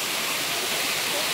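Steady broadband rush of a waterfall, close and continuous, with no breaks or distinct splashes across the short stretch.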